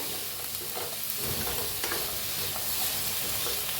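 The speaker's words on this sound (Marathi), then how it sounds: "हलवून ह्यांना सगळं भाजून घेऊया थोडंसं तेल घेतलं आहे तेल घालून भाजून घेऊया" Ginger and tomatoes roasting in oil in a pan, giving a dense, steady sizzle with a faint stir partway through, close and even in loudness, no talking.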